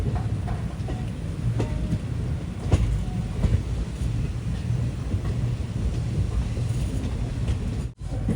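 The Kollam to Chennai Egmore Express rumbles toward platform one with steady clickety-clack of wheels over rail joints, a close continuous roar that dips sharply for a moment near the end.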